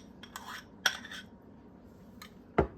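Shortening being cut into dry buttermilk biscuit ingredients in a bowl, heard as a few sparse metallic clinks and scrapes of a utensil against the bowl, fairly quiet with gaps between.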